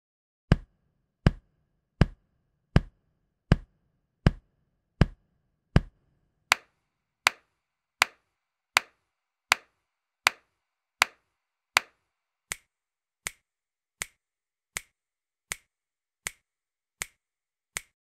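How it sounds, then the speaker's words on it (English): Body percussion in steady quarter notes: a group of soft, thumpy chest pats, then a group of sharp hand claps, then a group of lighter finger snaps, each hit crisp and evenly spaced in a quiet room. "In this example, we have two bars of chest pats, two bars of hand claps, and two bars of finger snaps,"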